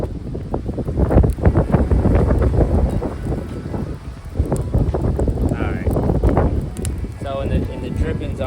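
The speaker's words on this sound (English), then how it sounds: "It's very windy, so excuse the wind," Strong outdoor wind buffets the microphone in loud, continuous low rumbling gusts beside a Weber kettle grill smoking a brisket, with someone talking over it throughout.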